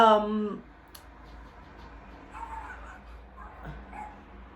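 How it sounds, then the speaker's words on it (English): A brief yelp from a dog at the start, followed by quieter whimpers and faint yips further off against a low background hum. "the neighbor's dog."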